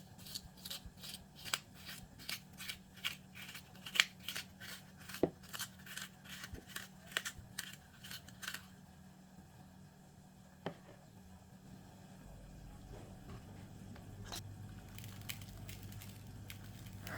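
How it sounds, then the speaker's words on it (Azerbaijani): Thin knife hollowing out raw potatoes for stuffed potato dolma, heard as a run of crisp close scraping and cutting clicks during the first half, then a quieter stretch with a low steady hum. "nəzik bıçaq vasitəsilə oyuq açıram. Baxın, bu cür gördüyünüz qaydada bu cür oyuq açıram."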